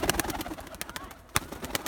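Young tumbler pigeons coo softly nearby in short, scattered bursts. Faint rustling and other background sounds come through between the calls.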